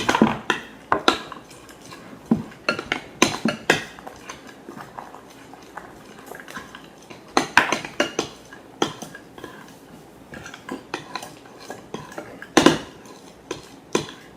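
A big spoon stirring shaving cream in a bowl for homemade slime gives repeated clinks and scrapes against the bowl, coming in irregular bursts with quieter gaps, close and clear.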